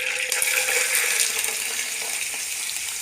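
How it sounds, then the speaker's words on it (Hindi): Cauliflower florets fry in a cup of hot oil, giving a steady, close sizzle with fine crackling that runs evenly throughout. "उसमें हम ये फूल गोभी भूनेंगे ऐसे 5 मिनट।"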